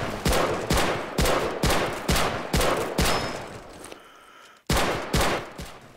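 Rapid bursts of soldier gunfire in the video game Men of War, about a dozen sharp cracks in an even rhythm, with a short lull before a final volley; loud and close, no talking.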